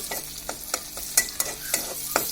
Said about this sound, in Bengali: আমাদের রসুনটা প্রায় লাল হয়ে আসছে